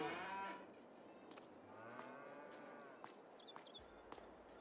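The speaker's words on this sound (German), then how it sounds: "Ah, hier hat es ja noch mehr Kühe." Cattle on a farm in Farming Simulator 22 moo in low, drawn-out calls, one long moo near the start and more fainter lowing after it, over quiet farmyard ambience with no talk.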